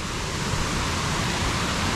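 The large Cachoeira da Ponte waterfall in Sengés, Paraná, pours into a canyon. Its steady, loud roar of rushing water fills the scene without pause, and no one speaks.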